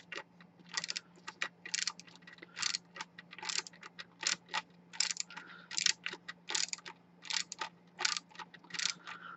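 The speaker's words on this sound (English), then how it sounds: "now I'll just hold it like this so you can see the ratcheting working" A small handheld ratcheting tool clicking while threading, quick bursts of sharp clicks repeating in a steady rhythm, close and clear over a faint background hum.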